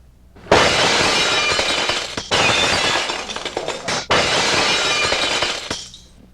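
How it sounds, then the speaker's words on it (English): A loud comedy sound effect of a glass skirt shattering fills the space, with three long crashing bursts of breaking glass and tinkling shards, each cut off abruptly and followed by brief quiet. "Here's the sound of a glass skirt."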